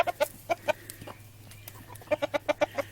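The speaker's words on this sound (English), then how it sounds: "Chickens!" Backyard chickens and a rooster give short, sharp clucks nearby: a few scattered calls, a quieter pause, then a quick rhythmic string of clucks. A low steady hum runs underneath.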